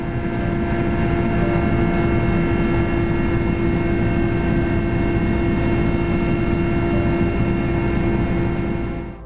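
An Mi-8 helicopter in flight over the Arctic settlement of Dikson, a loud, continuous engine and rotor drone with a strong steady hum, unbroken for the whole stretch before fading at the very end.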